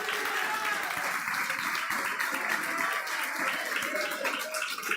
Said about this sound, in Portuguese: Aplauda o Senhor aí no teu lugar